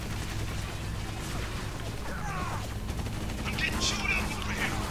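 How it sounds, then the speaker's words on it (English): Sustained automatic gunfire rattles throughout a firefight in the video game Spec Ops: The Line, dense and continuous, with bursts and other battle effects layered on top. "Who the hell's shooting at me?"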